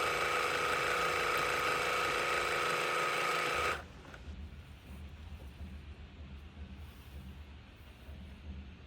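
A sewing machine stitches a ruffled linen pillow cover, running loud and steady for about four seconds before stopping abruptly, leaving a low background hum.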